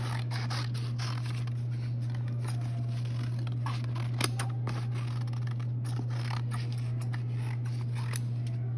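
Scissors cut out a paper flower and leaves, a string of quick, crisp snips and light scraping up close over a steady low electrical hum, with no speech.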